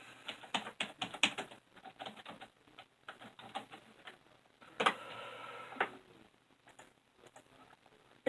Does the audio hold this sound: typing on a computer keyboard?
yes